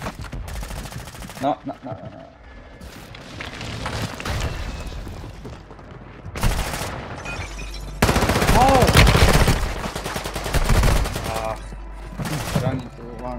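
Bursts of automatic gunfire and single shots from the Warzone video game on Rebirth Island, loud and close, coming in clusters between quieter stretches, with a voice talking faintly over the game audio.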